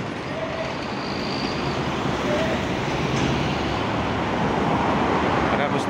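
Traffic at a roadside bus stop beneath a toll road, with a blue bus picking up passengers amid steady, loud road noise and passing vehicles; a voice talks over it.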